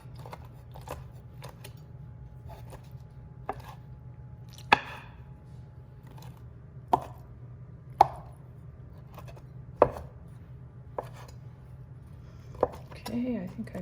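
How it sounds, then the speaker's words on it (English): A knife roughly chops through Kalamata olives on a board in sparse, sharp taps and thuds, spaced irregularly over a low steady hum. "So you just give it a rough chop through all of them, just to make sure none of them have pits"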